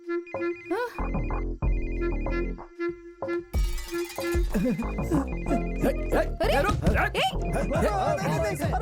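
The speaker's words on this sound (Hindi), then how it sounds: "किसका फोन रिंग हो रहा है?" A phone ringtone plays a repeating electronic melody amid frantic overlapping voices, with a dog barking briefly.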